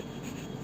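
Pen or pencil scratching and rubbing on paper while numbers are written on a maths worksheet, brief and close.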